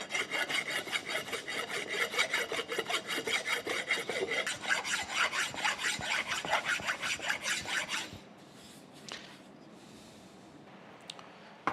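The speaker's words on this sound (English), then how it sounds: "go grab a file and a pick and I'll start getting that cleaned up" A hand file rasps in long, rhythmic back-and-forth strokes across freshly poured babbitt bearing metal on a steam stoker engine crosshead, steady and close for about eight seconds before stopping, followed by a few faint clinks and handling noises.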